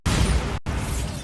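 A Bombarda spell explosion in the video game Hogwarts Legacy, heard as two heavy, broadband blasts in quick succession, loud and close, separated by a split-second gap.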